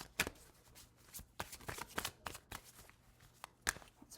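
Tarot cards shuffled by hand in a fortune-reading session, a rapid irregular series of crisp riffling slaps and flutters, close and fairly quiet, with no talking over it.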